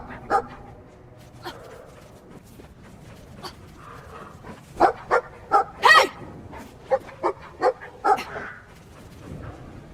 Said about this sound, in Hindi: वो फिर खेतों में एक वसीले कुत्ते का सामना करते हैं